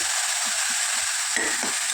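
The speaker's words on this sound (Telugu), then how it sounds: "ఈ రెండు ఆకుకూరలు వేసుకొని తాలింపులో బాగా మగ్గించుకోవాలి" Two kinds of leafy greens sautéing in tempering oil for a mutton dish, a continuous close hiss of frying with soft stirring touches and a brief louder rustle near the end, no talking.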